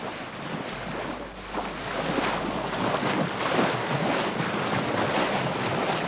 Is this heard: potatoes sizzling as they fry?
no